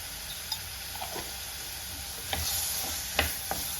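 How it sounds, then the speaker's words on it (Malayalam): Ash gourd curry with tomato and turmeric stirred in a pan: a soft continuous sizzle with occasional faint scrapes and taps of the spoon, quiet and close. "മഞ്ഞൾപ്പൊടിയും ചേർത്ത് നന്നായിട്ടൊന്ന് ഇളക്കിയതിന് ശേഷം നമുക്കൊന്ന് മൂടി വെക്കാം."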